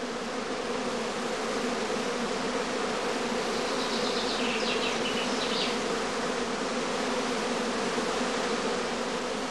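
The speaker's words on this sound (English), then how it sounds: "Warm, sunny days and humid weather in particular encourage the bees to swarm." A dense, continuous drone of a honeybee swarm, many wings buzzing together at steady volume with no pauses.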